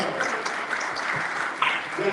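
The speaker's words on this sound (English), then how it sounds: "Can we do a round of applause?" Brief applause from a community gathering audience at an NAACP event, soft scattered clapping with murmured voices mixed in.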